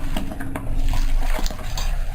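Chicken is mixed with tandoori masala marinade in a bowl, heard as loud, close wet squelching and clinking against the bowl with a brief clatter.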